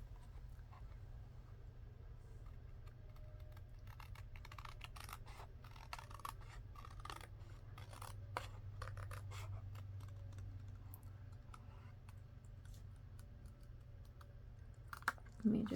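Scissors snip through white cardstock in a series of short, irregular cuts, close and fairly quiet over a low steady hum, with a soft thump near the end.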